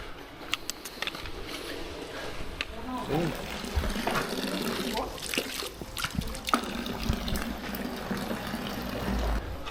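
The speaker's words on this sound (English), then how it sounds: "Just re-topped up the water, a couple of electrolytes in there" A water bottle refilled from a tap while hiking the Tour du Mont Blanc near the French-Italian border, with running, gurgling water under intermittent outdoor voices.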